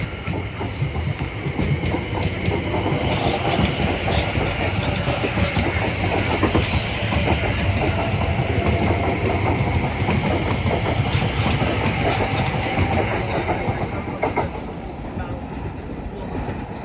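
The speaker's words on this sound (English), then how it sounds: "the 1416 South Western Railway service from Dorking" A South Western Railway passenger service from Dorking to London Waterloo passes through Clapham Junction, giving a loud, steady rumble with rhythmic clickety-clack of wheels on rail joints that eases slightly near the end.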